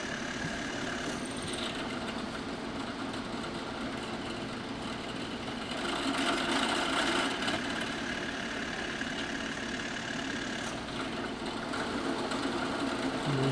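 A drill bores holes in a wooden stave drum shell, a continuous whirring motor drone that holds steady for the whole stretch and swells slightly midway, close and alone.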